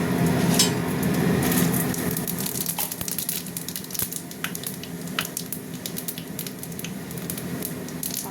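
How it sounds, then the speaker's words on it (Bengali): Bengali panch phoron seeds fry in hot oil for a mixed-vegetable jhol, giving a steady close sizzle with frequent sharp crackles and pops throughout and no voices. "ফোড়নটা একটু ভাজা ভাজা হোক"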